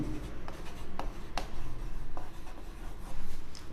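A pen scratches across paper in short strokes and taps as a math proof is written out by hand in a quiet room during a Class 10 lesson, with no talking.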